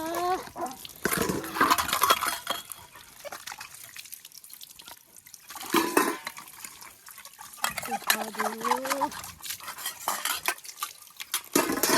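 Dishes and cutlery clink and clatter close by while water drips and splashes, with a voice talking over much of the washing.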